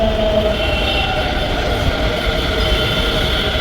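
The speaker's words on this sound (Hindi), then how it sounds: "ये मेट्रो आई है मौजपुर भावरपुर वाली," A Delhi Metro train on the Majlis Park–Maujpur line pulls into Welcome station, its loud, continuous rumble and rail hum filling the platform from start to finish without speech.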